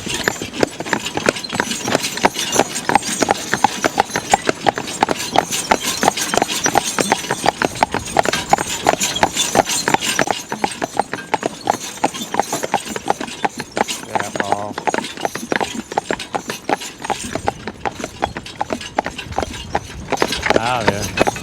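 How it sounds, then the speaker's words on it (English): Horse hooves clip-clop rapidly and loudly as a horse pulls a wagon downhill, nearly at a gallop, with a dense, driving rhythm throughout and some rattling of the wagon. "We're going downhill, and Baron is almost into a gallop here."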